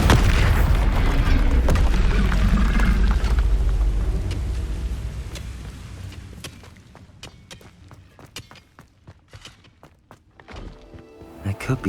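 The Bombarda spell goes off in Hogwarts Legacy with a loud booming blast that rumbles and slowly fades. Scattered thuds and clicks follow in the quieter stretch, and a voice is heard during the loud part.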